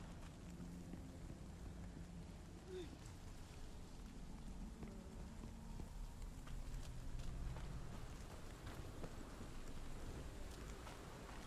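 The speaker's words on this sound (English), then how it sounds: "Storm's coming." Heavy thunderstorm ambience in the horror video game The Medium: dense, steady rain with gusting wind and low rumbling thunder swelling toward the middle, continuous and fairly loud with no voices.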